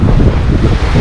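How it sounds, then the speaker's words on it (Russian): Strong wind buffeting the microphone on a beach by a stormy sea, a loud low rumbling roar with surf churning beneath, continuous through the brief moment. "Возможно, меня будет плохо слышно из-за ветра."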